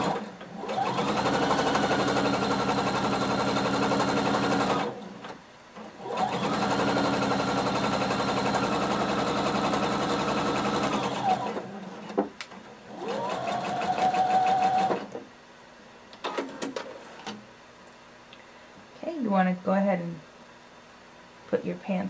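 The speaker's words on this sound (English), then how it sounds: "we're going to sew using 5/8 of an inch seam allowance." A sewing machine stitches a jumpsuit seam at 5/8 inch allowance in several long steady runs with short pauses, then gives way to softer handling noises and faint talk near the end.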